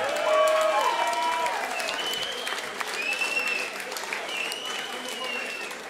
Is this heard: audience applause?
yes